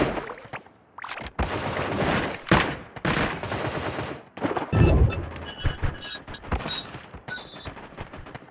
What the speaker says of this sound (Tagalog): may bumabaril sa akin